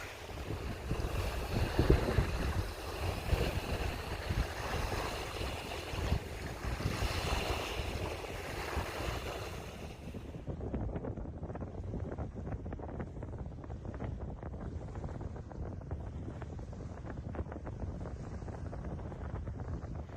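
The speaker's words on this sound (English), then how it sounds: "Cloudy, winds are going the same way, waves are going the same way." Wind buffeting the microphone and waves lapping during a morning river paddle on a cloudy day, a continuous rough rushing roar that drops to softer choppy water splashes partway through.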